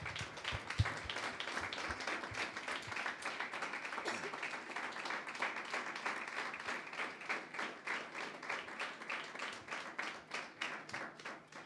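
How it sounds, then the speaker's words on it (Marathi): A church congregation claps loudly and rhythmically in unison during a Sunday sermon, the steady beat building and continuing for several seconds. "जोरा जोरा टाळ्या वाजवा"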